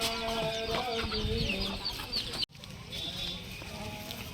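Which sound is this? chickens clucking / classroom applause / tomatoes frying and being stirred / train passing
chickens clucking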